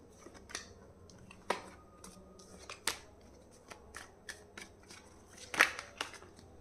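Tarot cards are handled and shuffled quietly up close, giving soft, irregular flicks, snaps and rustles spread across a few seconds with no talking.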